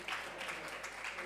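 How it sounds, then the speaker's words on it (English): A panel event's audience gives the panelists a round of applause, a brief, fairly faint patter of clapping from a modest crowd. "Let's give them a round of applause, please."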